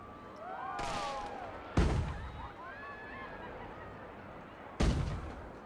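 Roman candle fireworks in the video game Planet Coaster 2: two sharp, loud pops about three seconds apart, with whistling and crackling sparkle trails between them.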